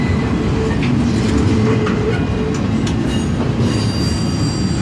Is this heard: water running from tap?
no